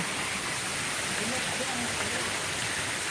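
A waterfall near a temple hall in Chiang Mai, Thailand, a constant, loud broadband rush of falling water with no break.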